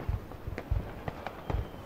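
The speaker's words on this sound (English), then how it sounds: "I wanna shoot fireworks." New Year fireworks being set off, a string of faint distant pops and crackles in an irregular rhythm, with a few heavier low thumps spaced through the stretch.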